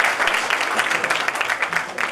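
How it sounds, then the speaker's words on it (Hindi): Hindi poetry recital audience breaking into applause, a dense steady wash of many hands clapping for a couple of seconds at moderate volume. "सर ज्यादा ताली बजाने की जरूरत नहीं है"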